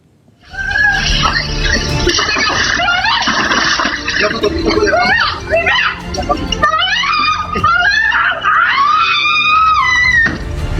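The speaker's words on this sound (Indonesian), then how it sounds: "kamera pemantau memperlihatkan seorang wanita berteriak minta tolong saat dibawa kabur seorang pria pengendara mobil" A woman screaming for help as a man drives off with her in a car, caught on a street surveillance camera in Kartasura, Sukoharjo; loud, sustained, wavering high-pitched cries fill nearly the whole stretch, harsh and distorted.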